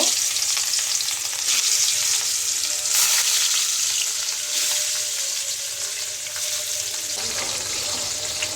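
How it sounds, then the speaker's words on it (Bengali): Hilsa fish frying in a pan for mustard hilsa gives a steady, loud, close sizzle with continuous crackle and occasional stirring, running unbroken throughout without talk. "ইলিশ মাছটা আগে ভেজে নিব"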